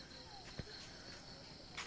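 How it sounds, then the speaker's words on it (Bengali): Crickets at night in a rural eco village near hills and forest keep up a faint, steady high trill, with a soft thump and a brief brighter burst near the end. "চারিদিকে পাখি ঝিঝি পোকার ডাক।"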